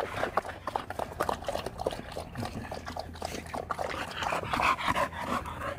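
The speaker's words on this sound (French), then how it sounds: "je donne de l'eau à mes chiens." Dogs lapping water after a cardio and agility training session, with wet splashing and slurping bursts in a steady rhythm, close by, accompanied by some panting.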